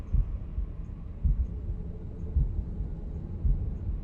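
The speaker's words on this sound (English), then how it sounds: "Fuck you, heartbeat." Low, muffled heartbeat thuds from the video game The Room, pulsing roughly once every second with a faint hum underneath, steady and alone without talk.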